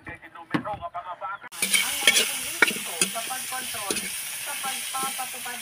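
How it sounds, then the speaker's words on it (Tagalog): Food is sautéed in a pan. After a short quiet start, a loud hiss of sizzling breaks out and continues steadily, with stirring scrapes, while a person talks over it. "Ayan po, ginisa na natin."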